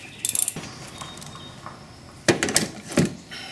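A ratchet with a 10mm socket on an extension works a bolt on a Honda Civic during a transmission filter change, giving a few brief clicking bursts at the start and again near the end, close, with quiet gaps between.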